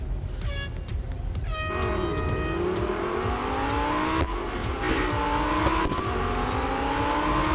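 A race car engine in the mobile game Real Racing 3 at Laguna Seca climbs steadily in pitch as it accelerates. A few short tonal blips sound early on, and the engine noise stays loud and continuous with no talking.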